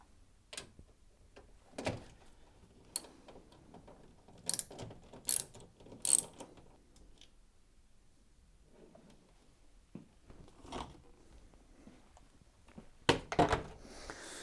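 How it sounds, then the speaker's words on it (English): A socket wrench ratchets out the screws of a Hoover tumble dryer in short bursts of rapid clicking, with sharper metallic clacks between quiet pauses, close and fairly faint overall. "you need your socket set to remove the 3 screws that hold it in place"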